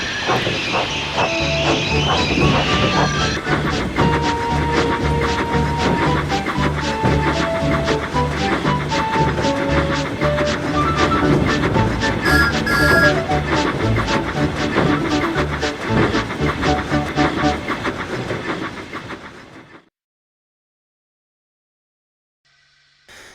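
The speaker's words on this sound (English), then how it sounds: "And Thomas set off with his passenger train" A train runs steadily with rumbling wheels, hissing steam and a rhythmic clatter, accompanied by music, then everything cuts to silence near the end.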